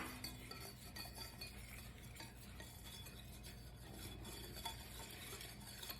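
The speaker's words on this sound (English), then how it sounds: "We're just gonna whisk that in." A whisk works powdered sugar into molten lava cake batter in a bowl, a faint, steady stirring rustle with light clinks against the bowl.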